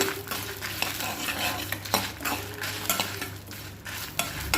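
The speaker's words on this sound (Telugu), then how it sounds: "కరివేపాకు వేగిన తర్వాత ధనియాలు కొంచెం వేస్తున్నాను నెక్స్ట్ జీలకర్ర అవి కూడా బాగా వేగనిద్దాము" Coriander seeds and cumin fry alongside curry leaves in hot oil, a continuous close sizzle broken by repeated scraping stirs of a utensil against the pan, with no voices.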